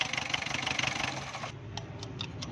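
A diesel car engine runs at idle, a steady close rumble with fast rhythmic knocking pulses, then drops slightly quieter with a few sharp ticks near the end.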